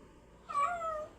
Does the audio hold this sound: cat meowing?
yes